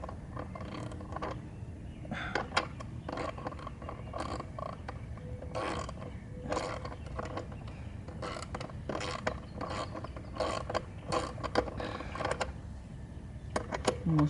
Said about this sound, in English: Grab a ratchet real quick, and we're gonna tighten these down now.